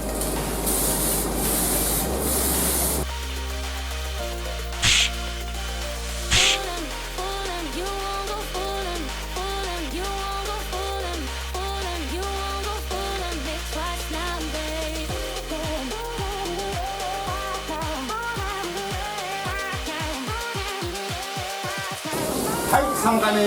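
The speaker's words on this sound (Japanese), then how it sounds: "はい、ではね、3回目最後クリア振っていきたいと思います。" An aerosol spray can lays clear coat onto the exterior body panels of a Yamaha JOG ZR scooter, heard as loud hissing bursts at the start and end with steady music playing between.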